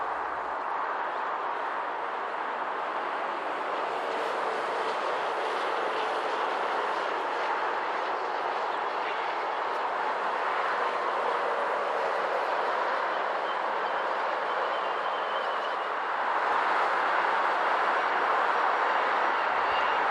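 A long BNSF freight train on Colorado's Joint Line rolls steadily past, its lead locomotives in Heritage 1 and Heritage 2 paint, giving a continuous broad rumble and rail noise that holds at an even loudness for the whole stretch.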